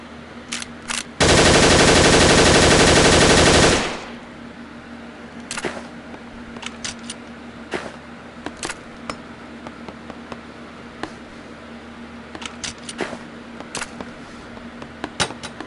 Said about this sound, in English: This is one of my favorite SMGs, which is an MP5.